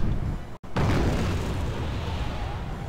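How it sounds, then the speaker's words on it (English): Bombs burst in a Wargame real-time strategy battle: a heavy, loud boom rolls out after a brief dropout and then fades into a long, rumbling decay. "These guys try to bomb there and miss."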